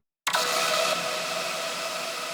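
A panned, shimmering hardwave resample with auto pan and a sidechain effect, built from lead tails, enters abruptly after a short silence as a dense, bright sustained wash that slowly softens, with no voices.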